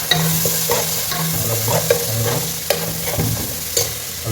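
Curry leaves crackle and sizzle in hot oil in a pan for a Tamil Nadu-style bottle gourd, potato and mutton curry, loud and close, with repeated scraping stirs and sharp pops over the steady fry.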